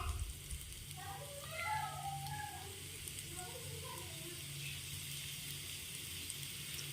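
Oil bubbles in a pan on the stove, a faint steady sizzle and crackle heard close, with a few soft higher chirps drifting in the background.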